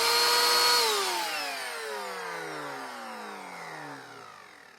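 A vacuum cleaner motor with gritty, failing bearings, worn down with baking soda, lets out a loud, high whine that falls steadily in pitch as it spins down, alone with no voices.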